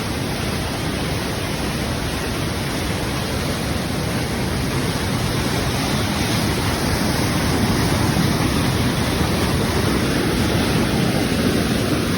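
Roaring River in Westmoreland, Jamaica, rushing water as a loud, steady broadband roar with no break and no voices.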